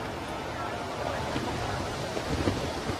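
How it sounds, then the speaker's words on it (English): Strong wind at a cross-country horse event, a constant rough broadband rush buffeting the microphone throughout, with commentators talking over it. "Wind has gone crazy."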